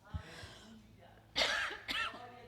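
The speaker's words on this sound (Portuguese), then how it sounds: "Tenha paciência comigo que eu estou com tosse" A woman coughs in a few rough bursts: a light one at the start, then two stronger, raspy coughs close to the microphone, with a brief pause between them.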